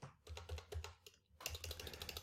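Rapid clicking of a computer keyboard being typed on, close and clear, in two bursts separated by a short pause.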